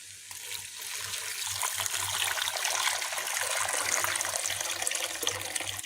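Water pours steadily into a pot holding sautéed onion, garlic and fresh ginger, a close, continuous splashing rush that builds slightly and runs for several seconds with no talking.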